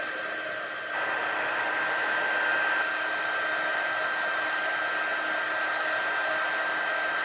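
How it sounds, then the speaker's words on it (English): An embossing heat gun runs continuously, a steady close whooshing blower hum with a high whine, switching up in intensity about a second in and holding level, with no talking. "I don't want to talk much when the embossing gun is going"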